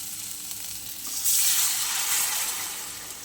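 Popped mustard seeds stirred with salt and turmeric in a hot pan for a raw mango sour dish, a steady close sizzle that swells into a louder hiss midway before easing slightly.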